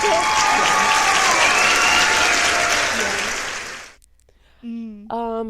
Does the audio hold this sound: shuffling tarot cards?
no